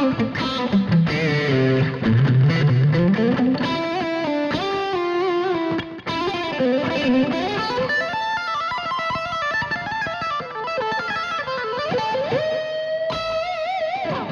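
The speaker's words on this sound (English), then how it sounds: "I like my delay and reverb very subtle. Let's check it out the lead tone." A sustained electric guitar lead with distortion, playing bending melodic lines, wrapped in soft delay repeats and a subtle reverb tail, loud and continuous.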